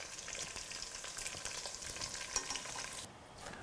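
Pork spare ribs brown in a big pan with a steady, bright sizzle and crackle, close up and continuous, easing slightly toward the end, with no voices.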